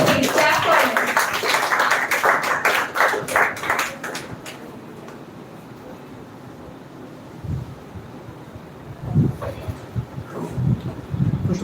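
An audience at a school speech event claps loudly in a dense burst for a student called to the podium, and the clapping thins out and fades after about four seconds into quieter room noise with a few soft thumps.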